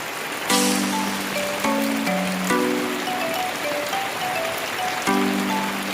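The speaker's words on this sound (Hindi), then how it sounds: "बहुत तेज़ बारिश हो रही है।" Heavy rain pours down in a village, a steady dense hiss throughout the clip, with a simple melody of tones playing over it.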